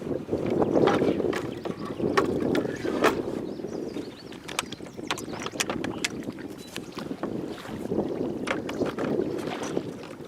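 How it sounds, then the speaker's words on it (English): Gusty wind buffets a microphone on a boat during a river trip on the South Saskatchewan River, producing a steady rough rumble with stronger swells near the start and end. No voices are heard. "gust of wind just hits you"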